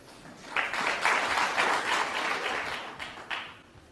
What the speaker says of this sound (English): the crowd are really getting involved straight away in this final